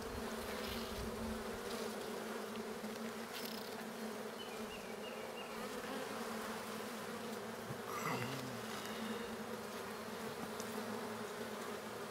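Agitated honeybees buzzing around an open hive during a spring inspection, a dense, steady droning swarm close by with individual bees zipping past.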